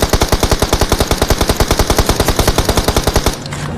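Rapid automatic gunfire from the mobile battle-royale shooter PUBG Mobile, about two dozen evenly spaced loud shots in a steady rhythm that cut off abruptly near the end, leaving a quieter tail.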